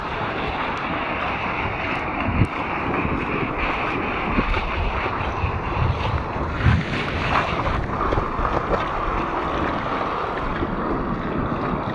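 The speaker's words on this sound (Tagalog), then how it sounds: "abot na yung alon dito mga master oh" Sea waves from the southwest monsoon washing around an anchored fishing boat near the shore, a steady loud rush of surf mixed with gusty wind buffeting the microphone throughout.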